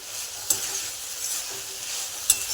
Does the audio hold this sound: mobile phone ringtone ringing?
no